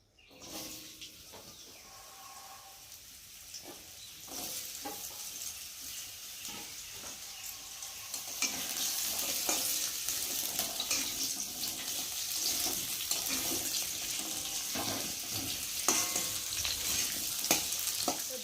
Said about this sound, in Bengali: তেল দিয়ে আবার একটু আলুগুলোকে একটু ভেজে নেব